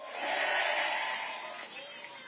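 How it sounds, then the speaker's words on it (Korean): A crowd at a Korean Democratic Party political rally applauds and cheers in a loud, dense roar that swells early and then eases slightly. "박수 한번 보내주십시오"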